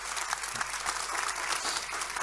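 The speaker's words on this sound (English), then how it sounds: "Give a round of warm applause for our panelists" Warm audience applause for a panel in the Lund concert hall, a steady dense patter of many hands clapping at moderate level for a couple of seconds, with no voices over it.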